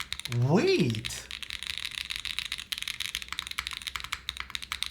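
Typing on an Angry Miao AM65 Less mechanical keyboard built with no foam, a steady run of close, crisp keystroke clacks that follows a brief voice at the start.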